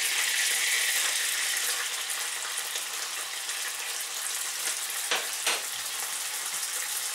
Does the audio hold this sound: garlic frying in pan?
yes